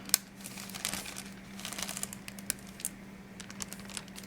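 A zippered plastic sandwich bag crinkles and rustles in uneven bursts as a potted African violet is slipped inside, close and fairly soft over a low steady hum, with no talking.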